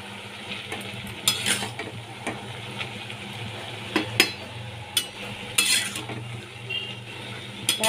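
A spoon stirs a hilsa fish head curry with ash gourd and cumin powder in a pan. Intermittent scraping and clinks against the metal sit over a low, steady sizzle, close up, with no voices.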